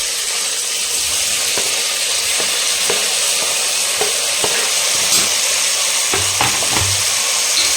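Tomatoes, green chillies and rampa leaf fry in oil with a steady close sizzle, broken by a few light stirring clicks and scrapes throughout.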